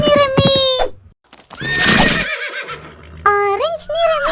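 A cartoon horse in a children's animation whinnies twice, high and bright, with a quieter clip-clop stretch between the calls.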